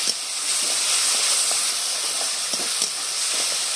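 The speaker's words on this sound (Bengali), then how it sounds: "এখানে দিয়ে ভালো করে মশলা আরেকবার কষে নেবো" A spice paste of white mustard and poppy seed sizzles and hisses steadily in a hot pan for a fish curry, with faint stirring scrapes now and then, close and continuous, with no talking.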